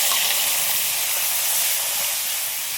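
Eggplant pieces deep-frying in hot oil left over from frying fish, giving a steady, close, continuous hiss and sizzle with no talk.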